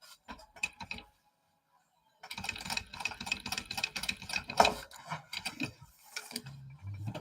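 Sewing machine back stitching over webbing on a small traveler bag project, a brief whir, a pause, then a longer close rattling run of stitches ending in softer thumps.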